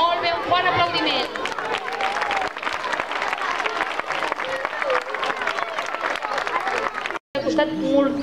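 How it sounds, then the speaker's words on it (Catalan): Loud, sustained applause from a crowd at the Jocs Florals 2017 school literary awards, dense clapping with some cheering and chatter, ending briefly then resuming. "Molt bé, un bon aplaudiment."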